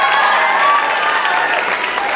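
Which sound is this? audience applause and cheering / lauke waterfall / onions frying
audience applause and cheering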